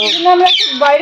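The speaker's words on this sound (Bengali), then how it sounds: "পাখিদের কোলাহল।" One loud, harsh bird squawk close by, rising and falling in a short raspy burst, amid a noisy flock of parrots.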